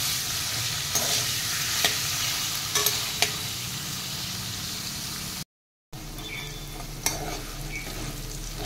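Bitter gourd pieces sauté in hot oil over a high flame with a steady, close sizzle, interrupted by a few sharp stirring clinks and one brief dropout of sound.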